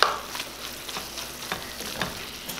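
Pak choy being stir-fried in a pan, salted and nearly done, giving a steady close sizzle broken by a few soft stirring scrapes.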